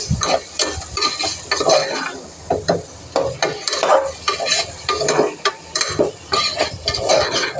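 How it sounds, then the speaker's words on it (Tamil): Chicken pieces sautéed in a pan with masala, stirred in a steady rhythm of scraping and clattering strokes over a persistent sizzle, close and fairly loud, with no speech. "இப்போ நம்ம கழுவி வச்ச சிக்கன் ஆட் பண்ணுங்கள். ஆட் பண்ணிவிட்டு திரும்ப நல்லா வதக்கி விட்டுக்கணும்."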